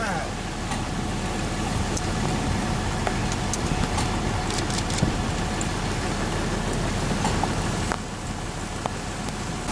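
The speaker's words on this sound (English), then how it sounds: "I think we're in a weak tornado there" Rain and gusting wind roar steadily around a vehicle inside a weak tornado beneath a funnel cloud, a dense hiss of drops pelting surfaces with scattered sharp impacts, loud and unbroken throughout.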